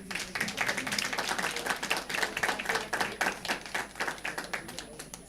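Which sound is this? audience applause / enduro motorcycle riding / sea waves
audience applause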